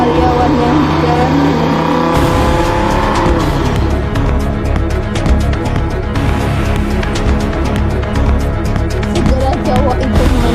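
A four-wheeled car speeds away from a factory, its engine roaring loudly and continuously with revving and tire noise filling the whole stretch, dense and close.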